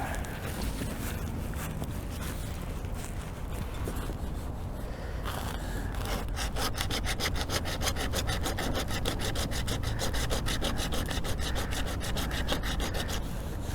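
Coarse 60 or 80 grit sandpaper rubbing down a high spot on boat gelcoat, a steady loud scratching that settles into fast, regular back-and-forth strokes in the second half.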